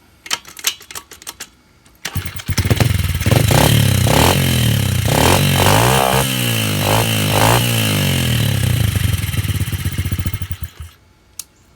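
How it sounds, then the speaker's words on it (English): A small pit bike engine with an FMF PowerCore 4 aftermarket exhaust revs hard and loud for several seconds, a raspy, crackling exhaust note rising and falling in quick blips before cutting off. "that's how it sounds with that exhaust on"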